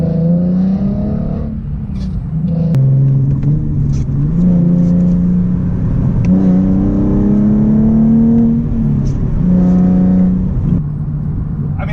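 A Nissan 370Z engine pulls hard under acceleration, its loud, close drone climbing in pitch through several rising surges with brief dips between them.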